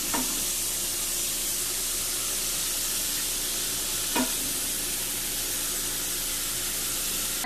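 Ground meat sizzles in a tipped pan as grease is ladled out for an enchilada casserole: a steady, close hiss with a couple of faint utensil clinks.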